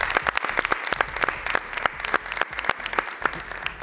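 Studio audience applause on a Chilean comedy TV show, dense rapid clapping sustained at moderate loudness for several seconds without voices.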